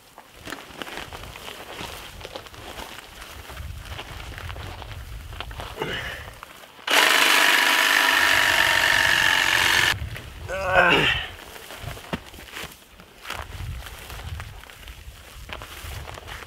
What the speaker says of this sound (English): using the hedge trimmer over here and just cutting down some of this long grass underneath the trailer just to reduce some of those hiding spots